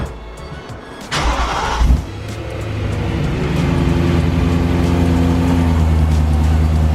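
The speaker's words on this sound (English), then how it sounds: "I'm gonna move the M3 up a little more so I have more space back here" A BMW M3 engine with stock exhaust idles at first, then rumbles up and settles into a steady, close, low drone as the car creeps forward.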